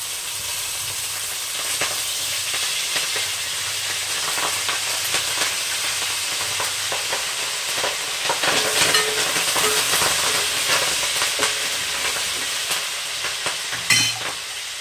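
Curry leaves crackle and spit in hot oil in a home cooking pan, a loud, steady sizzling hiss with bursts of popping heard up close and no talk.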